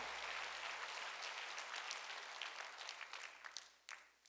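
A church congregation at a worship service applauding, a faint, dense patter of many hands that thins into scattered claps near the end.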